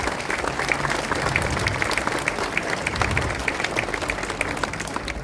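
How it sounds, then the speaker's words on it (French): An outdoor crowd at a bridge and footbridge inauguration breaks into dense, sustained applause, a steady wash of many hands clapping at moderate distance without a pause. "je crois qu'on peut applaudir l'État dans sa présence"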